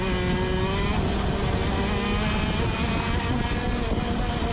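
Euro shifter kart engines racing at South Garda, a loud, dense high-revving two-stroke scream with shifting pitch as the karts accelerate, continuous and close without any talking.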